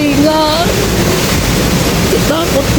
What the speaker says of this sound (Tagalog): nakakatakot po talaga yung lakas ng hangin